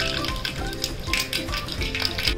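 Pork pieces frying in hot oil for a Kerala-style pork fry, a steady dense sizzle with crackling and occasional stirring, continuous and close, with no voices.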